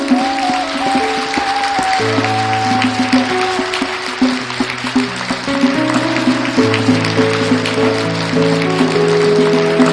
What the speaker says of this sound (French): voici Bel-Ami Paloukou sous les acclamations